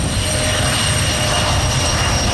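A large passenger jet taxiing at Charlotte-Douglas Airport, heard from the observation area as a loud, steady, broadband engine roar with a faint high whine, continuous throughout.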